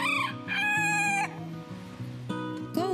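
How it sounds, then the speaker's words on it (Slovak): A rooster crows in a backyard edible garden, loud and close, with a long harmonic call that breaks off and then starts again near the end, while hens cluck faintly in the background. "Kohút Karol sa nás svojim kikirikaním snaží zobudiť."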